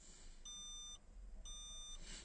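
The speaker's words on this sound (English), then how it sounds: "2 green beeps show us 2 keys programmed" Two short, identical electronic beeps, evenly spaced and clean-toned, from a proximity key programmer confirming two keys programmed to a 2016 Mazda MX-5, over a faint background hum.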